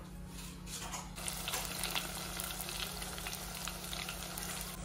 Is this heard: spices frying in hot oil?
yes